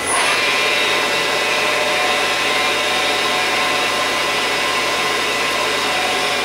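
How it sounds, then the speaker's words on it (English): Tool change on a Miyano TSV-35E drill and tap CNC machine, a loud continuous whirring and hissing mechanical noise that stays steady throughout with no voices. "Here we're doing a tool change."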